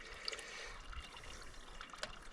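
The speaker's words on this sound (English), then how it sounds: "I think the flow out of this hose is greater than the flow coming in" Water flowing out of a hose outdoors, a faint soft trickle and splash, continuous and quiet with a few brief drips standing out.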